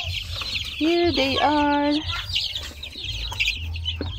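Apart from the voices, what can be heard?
chickens clucking on a farm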